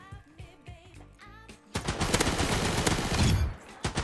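A rapid-firing automatic weapon in the shooter game Blitz Arena, a familiar PUBG-style gun, lets loose a dense, loud burst lasting about two seconds after a short stretch of speech.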